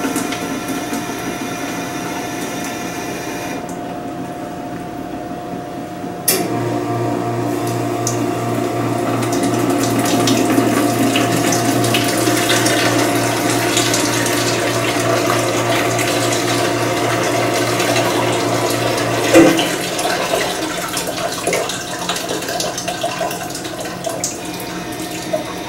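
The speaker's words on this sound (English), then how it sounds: "press 9, rinse, to activate the rinse function. Once the tank has drained completely, the rinse has finished" A FRESER TB-35T tea brewer runs its rinse cycle: a steady mechanical hum with running water swelling in after a few seconds, continuing evenly, then a click near the end as it drains.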